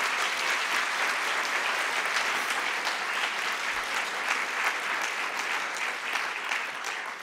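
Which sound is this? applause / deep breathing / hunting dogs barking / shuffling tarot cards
applause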